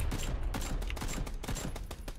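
Rapid gunfire rattles at a Jeep in PUBG (PlayerUnknown's Battlegrounds), a dense run of close, loud shots in steady bursts for about two seconds, with no talking over it.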